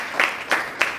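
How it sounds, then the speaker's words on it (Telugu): A church congregation at a Sunday service breaks into loud applause, three distinct swelling bursts of clapping within a second, close and with no talking over it. "గట్టిగా చప్పట్లు కొట్టండి ఒకసారి."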